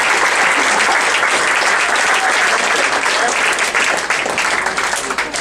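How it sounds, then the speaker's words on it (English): A comedy club audience at Zanies breaks into loud, close applause, continuous dense clapping mixed with some crowd cheering that stays strong throughout without letting up. "give yourselves a round of applause"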